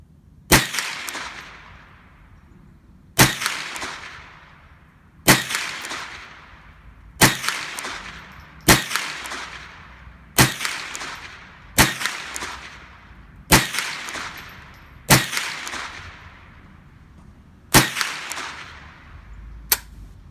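Shots from a Ruger 10/22 Archangel rifle aimed at 100-yard targets crack out one at a time at a steady pace, about ten sharp reports each trailing into a short outdoor echo.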